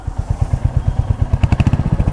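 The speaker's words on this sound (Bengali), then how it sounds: "স্টার্ট দেওয়ার পরে বাইকের সাইলেন্সারের সাউন্ড" A Royal Enfield Hunter 350, a 350 cc motorcycle with a small silencer, idles just after starting, its exhaust beating out a steady, rapid low thump that tightens slightly toward the end, close and loud with no one speaking.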